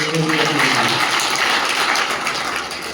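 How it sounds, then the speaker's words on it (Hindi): A steady wash of audience clapping greets newly elected office-bearers at an IRTCSO Jodhpur division gathering, fairly loud and continuous for the whole stretch, tapering slightly at the end. "ये तालियां होनी चाहिए"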